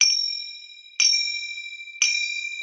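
Three soft-attack rings from finger cymbals (zills) struck rim to rim, evenly spaced about a second apart, each bright metallic tone sustaining and fading before the next, with nothing else around it.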